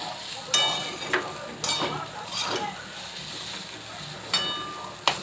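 Vegetarian chow mein being lightly fried in a pan: a soft, continuous sizzle broken by several sharp scraping and stirring knocks of the utensil against the pan, close by.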